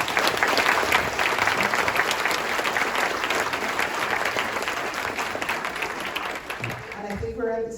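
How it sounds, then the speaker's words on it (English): An audience at a community candidates' meeting gives a sustained round of applause, a dense, even clatter of many hands that fades near the end as a voice begins. "Please give the candidates another round of applause."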